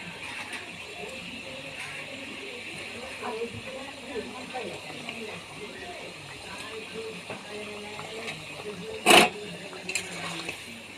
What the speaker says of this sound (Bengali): ঝোলটা ফুটে গেছে, এই পর্যায়ে মাছগুলো দিয়ে দেবো।